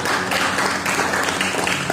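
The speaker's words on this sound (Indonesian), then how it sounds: "tepuk tangan bagi itu." A church congregation applauding together during a Sunday worship service, a steady dense wash of clapping sustained throughout at moderate loudness, with no clear gaps.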